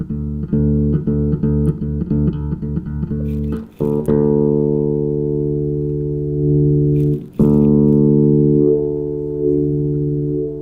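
A sustained electric bass note rings with a sweeping filter, its tone opening and closing; quick repeated plucks at first, then long held notes re-struck twice.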